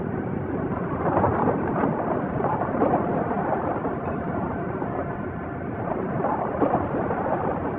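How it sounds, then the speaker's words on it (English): A rocket engine exploding during a test in Japan, heard as a sustained, muffled, rumbling roar that swells and churns steadily throughout, dull and bass-heavy with no talk. "A rocket engine blew up during a test."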